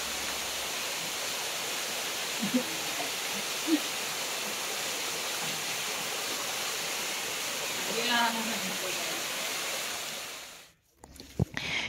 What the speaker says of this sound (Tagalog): May nadaanan din kaming sobrang gandang waterfalls kung saan sobrang lamig din ng tubig.